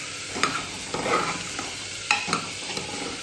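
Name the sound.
frying with turmeric and salt, stirring in pan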